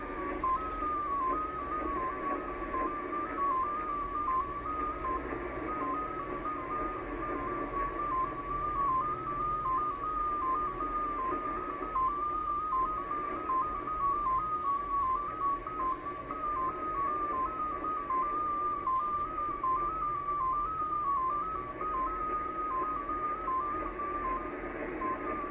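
A Russian numbers station, XPA2, transmits over radio: a steady stream of rapid electronic tones pulses without pause above a constant hiss of static and noise, mechanical and monotonous, with no voice present.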